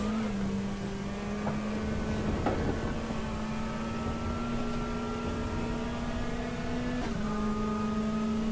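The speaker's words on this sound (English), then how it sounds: "The sounds of the cars, they sound so real." Racing car engines from the sim racing game RaceRoom drone with a steady, sustained tone that shifts pitch slightly, with a brief change near the end, loud and continuous with no talk.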